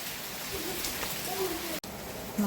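Heavy rain falling outside a home, a steady loud hiss of downpour with a brief dropout and faint voices in the background.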